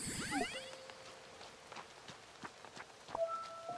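Soft rain patters steadily in the Fae Farm life-sim game, set in the town of Azoria. It sits faintly beneath chiming game tones and light ticking effects.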